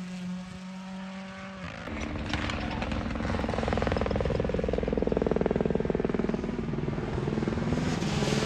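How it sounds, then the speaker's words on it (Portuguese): A helicopter passes over a WRC Germany rally stage, its low thudding rotor beat growing steadily louder and nearer, while people talk faintly in the background. "tá vindo no helicóptero, o carro vem junto ali"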